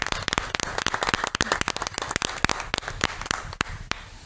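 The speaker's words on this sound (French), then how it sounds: "Bon, allez, on applaudit." An audience applauds at a televised evening show, the dense crisp claps close and steady throughout.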